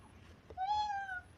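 A child imitates a cat, giving a single clear, drawn-out meow that rises and falls in a quiet room.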